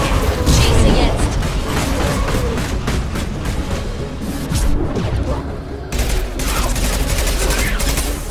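Dense bursts of sci-fi gunfire rattle through combat in the video game Mass Effect 2, with rapid repeated shots, booms and mechanical clatter throughout and a brief dip partway through.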